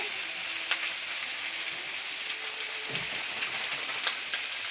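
Chandramukhi potatoes frying in a pan give off a steady, moderate sizzle with faint scattered crackles and no talking.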